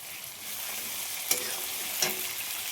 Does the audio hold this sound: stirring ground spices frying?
yes